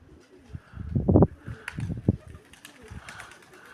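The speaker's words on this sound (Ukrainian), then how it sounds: "Держіть голубів" Pigeons coo in low, throaty rolling bursts close by, a few repeated calls over faint outdoor background noise.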